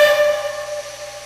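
Steam whistle on a Lombard log hauler, one loud near blast with a bright steady tone and hiss that fades over about a second, no voices.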